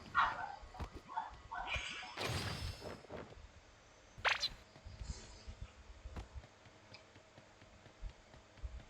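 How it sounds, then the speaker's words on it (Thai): A dog in the shooter game Sausage Man barks and yips in a few sharp bursts, mixed with game clatter and a loud thud, fairly close but intermittent. "หมาพันอะไรเนี่ย"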